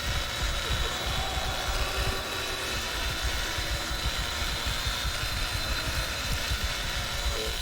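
Leatherface's chainsaw in the Texas Chainsaw Massacre video game drones in a loud, continuous rumbling idle that holds steady throughout without clear revs.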